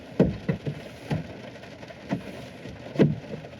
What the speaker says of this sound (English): It's really raining during my first ever podcast.